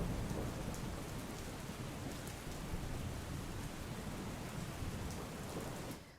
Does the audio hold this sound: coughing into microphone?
no